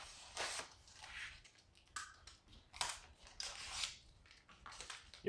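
A blade slices through vinyl camo wrap film on a Chrysler 300 SRT8. Close, crisp scraping strokes come in separate bursts with short quiet gaps between them.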